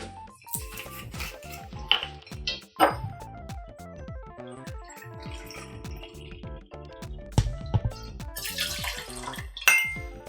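Bourbon, 60 ml, poured for an Apple Cider Whiskey Smash cocktail, a short trickling pour with clinks of glass and bar tools, close and fairly quiet, with a few sharper knocks.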